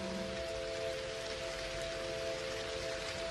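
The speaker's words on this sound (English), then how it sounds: "It's starting to rain. The raindrops are gently dancing on the exterior of your pod." Gentle rain patters steadily on the exterior of a pod, a soft even hiss throughout with a faint tonal hum beneath, no voices.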